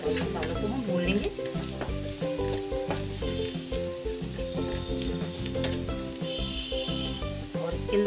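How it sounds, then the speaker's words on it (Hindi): Turmeric, coriander and red chilli powder fry in hot oil for a bottle gourd and chana dal curry, a steady sizzle running the whole time beneath louder tonal background music. "हल्दी पाउडर डाल देंगे, धनिया पाउडर और लाल मिर्च पाउडर भी इसके अंदर हम डाल देंगे और मसालों को हम भून लेंगे"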